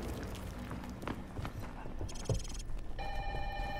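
In the video game Modern Warfare, an in-game telephone rings in electronic bursts amid gunfire thuds and clattering action, with voices under the busy mix.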